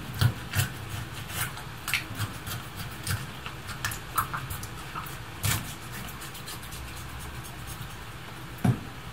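A knife slicing open the belly of a bearded sea bream, heard as close, scraping and rasping cuts with a few sharper crunching strokes spread across the clip, no talk.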